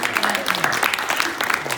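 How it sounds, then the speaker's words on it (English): Audience applause for panelists at a closing session, a dense round of clapping with some crowd murmur and voices mixed in, fairly loud and steady throughout. "let's give them a round of applause"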